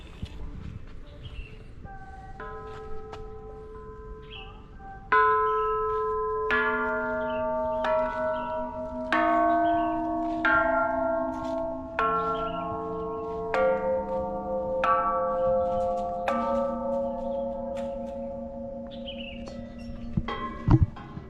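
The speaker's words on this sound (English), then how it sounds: "This is for the bell." Bells ring at a Thai temple in a long, unhurried series of clear, resonant strikes, each tone hanging and decaying while the next overlaps it, fairly close and loud.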